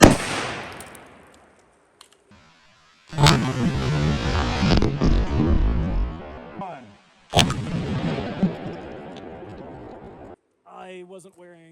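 A .338 Lapua rifle fires at a bowling ball outdoors, with two loud, booming shots that each roll into a long echoing decay, followed by brief talk at the end.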